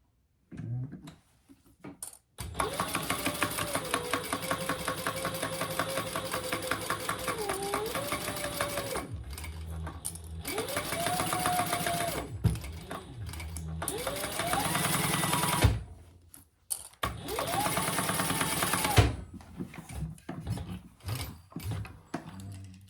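A sewing machine runs in long, steady bursts while stitching the bottom of a shoulder bag, stopping and restarting a few times with brief pauses, close and loud.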